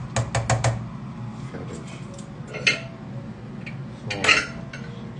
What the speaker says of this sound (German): Tut einmal die Nudeln rumrühren.